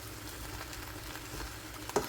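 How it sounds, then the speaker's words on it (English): Home fries potatoes get stirred around in a pan, a close steady frying sizzle with soft scraping and a sharper clink near the end, no voices. "I stir it all around"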